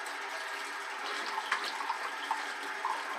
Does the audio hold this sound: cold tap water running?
yes